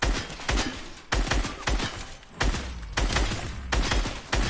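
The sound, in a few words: gunshots in the video game Fortnite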